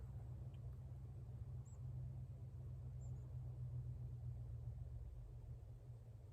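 Slow-moving cars pass at a distance on an outdoor road, giving a steady low engine rumble that holds through the whole stretch without clear peaks, with no voices over it.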